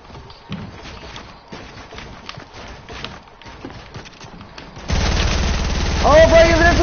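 Submachine gun fire in a video game, rapid bursts of shots at moderate distance, followed by louder steady noise and an excited voice talking over it.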